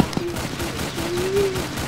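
Rapid gunfire in the Roblox game Zeppelin Wars, a quick burst of faint shots with a droning engine tone underneath.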